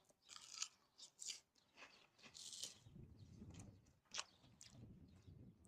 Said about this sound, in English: That's a good crunch to that batter though.